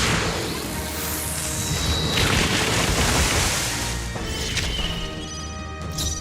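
A fiery attack in the fantasy role-playing game Metaphor: ReFantazio erupts in a loud, crashing explosion, a dense roaring burst that swells and sustains before a final sharp impact near the end.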